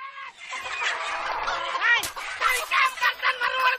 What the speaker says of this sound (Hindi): लो भाई, मुर्गी महाभारत फिर सुनो।